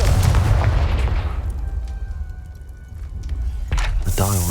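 A Confringo fire spell fired in Hogwarts Legacy on PC lands as a loud, booming blast that rumbles away and tails off. A second sharp burst strikes near the end.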